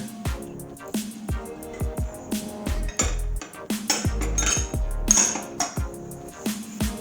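A spoon clinks and scrapes against a bowl while lentil salad is tossed, with rapid ringing knocks and some heavier thuds, close and continuous.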